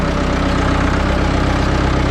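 A tractor engine runs steadily and loudly, close up, while pulling a mower through a hay pasture, with a constant low rumble and no breaks.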